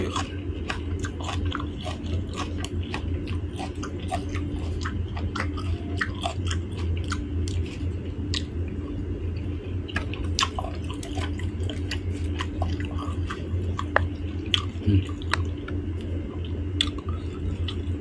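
Someone eats grilled pork up close, with steady wet chewing and soft squishing throughout and occasional sharp little clicks and crunches. No one speaks over the continuous, even chewing.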